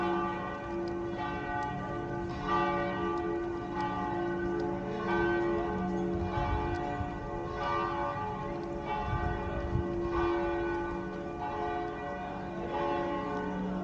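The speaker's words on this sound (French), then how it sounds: "On voit les cloches là-haut dans la tour." Tower church bells in Rimini, Italy, toll for noon in a steady, repeated swinging rhythm, full and resonant with long overlapping hum, heard outdoors fairly close with a low rumble beneath.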